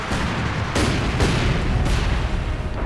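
Light artillery barrage in the World War II strategy game Company of Heroes 2, loud overlapping booms and shell blasts rolling continuously, with a few heavier impacts standing out and no talk over it.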